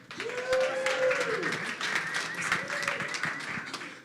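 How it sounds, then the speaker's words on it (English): Audience at a startup community event in Atlanta claps for a beer sponsor, with steady dense clapping throughout and a couple of rising whoops or cheers carried over it. "so let's give a round of applause for Mercer."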